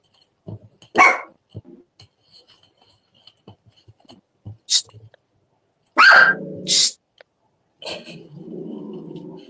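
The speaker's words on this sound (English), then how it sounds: "My dog will start barking now." A dog at home gives a few sharp barks, spaced irregularly among soft breathy snuffles and small indoor noises, with louder bursts near the end.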